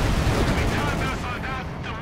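Artillery and bomb strikes in the World War II strategy game Company of Heroes 2, a dense, loud rumble of overlapping blasts and gunfire that slowly eases off over two seconds.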